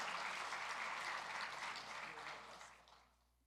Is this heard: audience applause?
yes